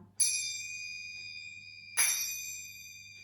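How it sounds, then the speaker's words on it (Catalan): Small xinxines (little cymbals) struck twice, each a bright metallic ding with a long ringing sustain that slowly fades, heard alone in a quiet room. "Mireu que llarg és el so de la xinxina."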